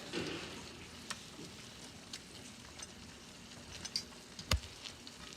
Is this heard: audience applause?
no